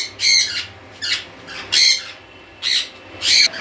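A pair of sun conure parrots in a bird colony squawk in five loud, harsh bursts spaced about a second apart, close and alone against a quiet background.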